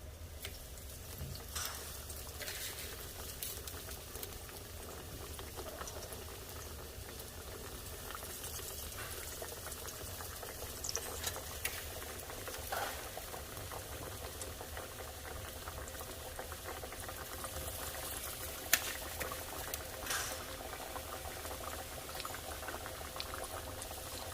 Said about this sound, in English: Now I'm going to fry these.